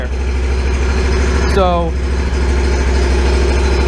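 A steady Exmark mower engine idles loudly and close throughout, holding an even drone while someone speaks briefly over it.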